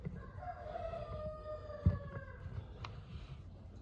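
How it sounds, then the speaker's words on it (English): A rooster crows once in a long drawn-out call, moderately distant, with a brief knock partway through and faint background noise. "Rooster says cock-a-doodle-doo."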